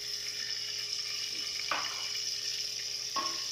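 Chopped onion dropped into hot oil in a home kitchen while cooking turnip mutton, giving a steady broadband sizzle with two sharper bursts of hissing as pieces hit the pan, close and moderately loud.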